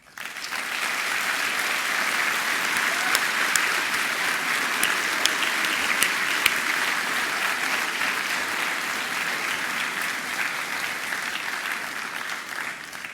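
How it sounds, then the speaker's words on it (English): A graduation ceremony audience breaks into sustained, dense applause, a broad steady roar of many hands clapping that swells quickly and holds evenly throughout. "I want to give you the chance to clap"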